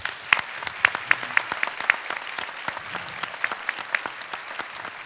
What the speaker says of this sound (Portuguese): uma salva de palmas a eles, por favor, gente.